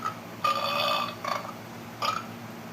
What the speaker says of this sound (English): That's a burp, obviously.